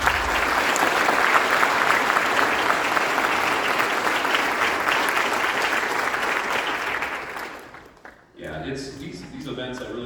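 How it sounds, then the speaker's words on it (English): Audience at an all-district honor band event gives a sustained, loud round of applause for the band director, dense clapping that fades out near the end before a voice begins speaking. "And let's give a round of applause here for her."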